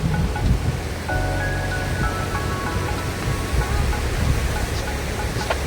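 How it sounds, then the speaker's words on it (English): Water rushes steadily at a waterfall in Vancouver, a constant broadband roar filling the whole span with no pauses and only faint background sounds on top. "I hope you guys can hear the water because it's just beautiful."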